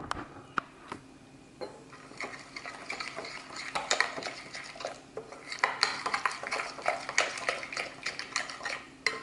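Taco seasoning being stirred into food in a pan on the stove, with repeated scraping and clinking of a utensil against the pan and a light sizzle underneath, close and steady with no talking.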